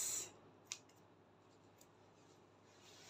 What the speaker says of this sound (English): So let me just cut it out.